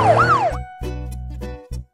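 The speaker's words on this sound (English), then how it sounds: "Look, kids, that's a police car." A police car siren wails in a quick rising-and-falling sweep, then gives several short horn-like blasts, loud and close with no talking.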